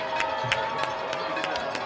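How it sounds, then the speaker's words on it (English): A high school football crowd at an IHSAA sectional game rises with cheering on a fourth-down play, a broad, steady roar from the stands with a few sharper shouts and claps. "Crowd coming alive."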